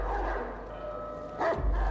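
A dog in the video game Watch Dogs 2 barks once, close and loud, near the end of the clip over a steady low game-ambience hum.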